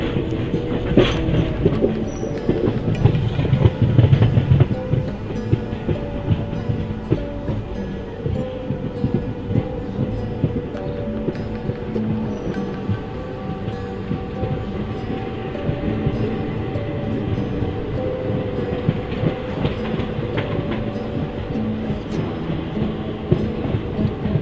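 Inside a train on a broad gauge line from Itwari to Chhindwara: a continuous rumble with rhythmic wheel clatter and occasional clunks throughout.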